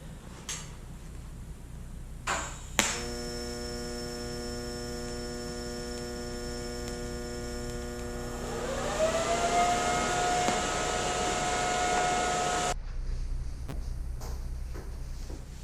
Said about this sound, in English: I'm just going to use my TIG here to tack up the corners